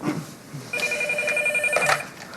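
A telephone rings indoors with a bright electronic trilling tone, one sustained ring burst of about a second, moderately loud and near, in an otherwise quiet room.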